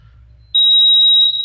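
A loud, piercing single-tone beep sounds from an alarm panel, holding steady for under a second after a quiet low hum.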